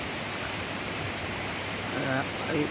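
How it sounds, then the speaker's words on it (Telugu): Water pours through the released gates of the Nagarjuna Sagar dam below its power plant, a broad, steady roar of rushing flow heard close and unbroken, with faint voices at the very end. "ఈ గాలులు డోర్స్, ఈ వాటర్ వదిలే డోర్స్"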